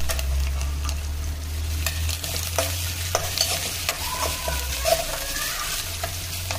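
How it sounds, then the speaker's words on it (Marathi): Ginger garlic paste fries with reddened onions in a pan for chicken curry, a low steady sizzle with repeated scraping stirs, a low hum running underneath. "त्याला लाल होईपर्यंत परतळून घेऊया। अद्रक लसूण पेस्ट टाकूया।"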